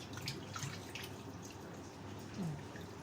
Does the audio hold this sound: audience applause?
no